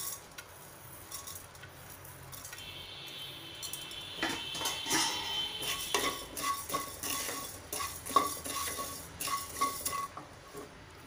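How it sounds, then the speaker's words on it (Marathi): Dry whole spices being roasted and stirred in a hot kadai for Maharashtrian masale bhaat, with soft scraping and rattling that grows busier midway, punctuated by sharp metallic clinks of the spoon against the pan. "आता आपण आधी हे सुके मसाले भाजायला घेऊया"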